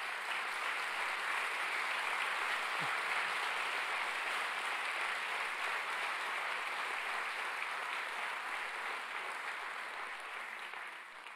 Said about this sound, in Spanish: ¿Por qué no le dan un fuerte aplauso a Jesús por todo esto?